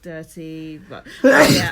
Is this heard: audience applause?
no